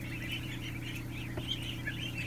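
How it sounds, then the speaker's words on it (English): Many ducklings peeping on an indoor floor, a dense chorus of high, overlapping chirps over a steady low mechanical hum. "A lot of ducks."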